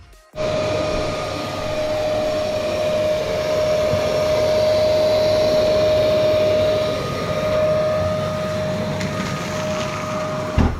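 A Bosch GAS 35 M AFC vacuum cleaner runs continuously up close, cleaning a car, a steady whining drone with a sustained high tone, starting abruptly and staying loud.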